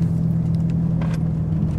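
A BMW Z4 with the N54 engine, which has an overheating problem, runs with a steady low rumble and a constant hum, with no talk.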